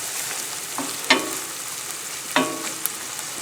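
Onions and fennel frying in a pan make a quiet background sizzle, broken by two sharper clinks of stirring, close and with no voices.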